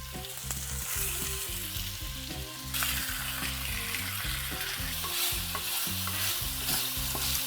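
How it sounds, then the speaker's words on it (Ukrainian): Steady hot sizzling and crackling of beef frying in a hot pan, continuous and close, with a rhythmic music-like pulse underneath throughout. "на розпечену пательню, викладаємо м'ясо і обжарюємо до золотистої корочки"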